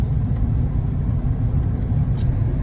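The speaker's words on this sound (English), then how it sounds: "Truck's running good." A new Ford 7.3 Power Stroke pickup rolls along towing a loaded trailer, a steady loud low rumble of engine and road noise heard from inside the cab, with a brief faint high squeak near the end.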